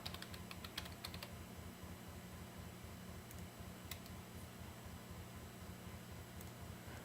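Rapid clicks of a computer keyboard being typed on, quick irregular keystrokes clustered at the start and scattered afterwards, faint over a low steady hum; no talk.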